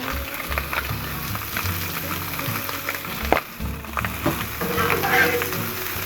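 Peppers and onions sizzle on a Blackstone flat-top griddle, a steady close frying hiss with a few spatula scrapes and clicks, loud and continuous throughout.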